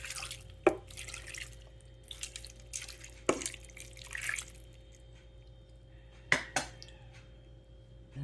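Water added to a cooking pot of bangus sardines with oyster sauce and olive oil, heard as faint scattered drips and splashes with a few clinks of the pot in a quiet kitchen.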